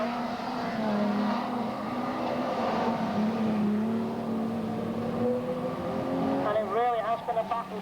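Stock cars race around Bolton Auto Speedway, their engines droning loudly and continuously as they pass, under excited race commentary.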